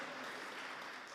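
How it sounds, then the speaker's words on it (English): A conference audience applauds, a soft, dense wash of clapping heard faintly and alone for about a second. "So please join me with a round of applause to her."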